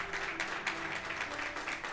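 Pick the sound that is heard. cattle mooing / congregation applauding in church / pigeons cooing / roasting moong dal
congregation applauding in church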